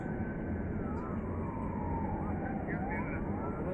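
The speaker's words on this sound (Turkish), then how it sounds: "Ambulans sesi falan geliyor." An ambulance siren wails faintly in the distance near a burning paint factory, partly masked by a steady roar, with people talking nearby.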